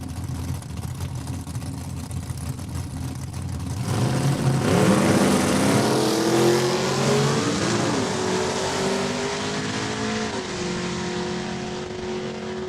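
A new Camaro launches at Saskatchewan International Raceway in a drag race against a Mustang. After a low idle, engine roar swells loudly and rises in pitch through the gears, then holds a strained, sustained drone down the track.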